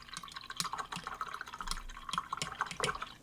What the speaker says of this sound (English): I have now rinsed my brush